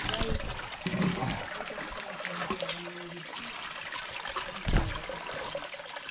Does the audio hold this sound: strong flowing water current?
yes